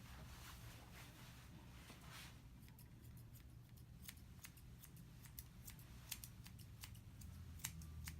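Scissors trim the facial hair of a badly matted Shih Tzu, giving quick crisp snips in irregular bursts, faint and close, over a steady low background hum.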